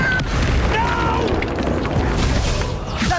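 A Confringo fire-blast spell explodes during a Hogwarts Legacy duel in the Cursed Sallows, a loud, dense rumbling boom with crackling combat noise that fills the whole moment.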